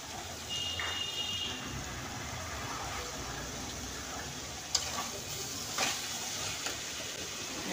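Boiled radish and mustard leaves drop into spices fried in oil, setting off a soft sizzle with scraping stirs and a few sharp clinks, fairly quiet and close.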